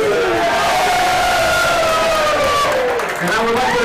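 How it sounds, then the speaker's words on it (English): At a Bangkok pool tournament ceremony, a crowd cheers and claps for the Manila Patriots team, a dense roar of voices and hands with rising shouts layered over the steady clapping throughout. "Can you give clap to the Manila Patriots?"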